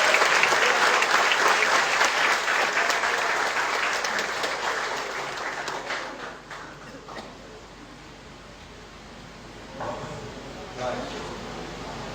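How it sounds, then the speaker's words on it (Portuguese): A church congregation applauds during a pastoral ordination service, loud clapping that gradually thins and fades, followed by scattered voices. "Você pode aplaudir o Senhor?"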